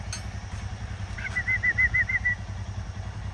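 Motorbike engine idling steadily after being started, a low rumbling drone running close by throughout, with a brief high chirping tone briefly over it.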